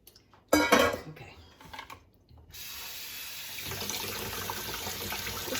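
A kitchen tap runs steadily after a few clatters of dishes, water rushing into the sink as something is rinsed, close and continuous.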